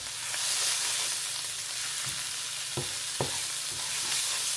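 Soya meat fries in hot oil with spice powder, giving a steady bright sizzle, broken by a few soft knocks of a spoon stirring the pan, close up with no voices.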